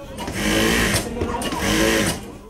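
A sewing machine stitches World Cup flags of countries such as Germany, England and Portugal in a busy flag workshop. It runs in two steady whirring bursts, with people talking over it.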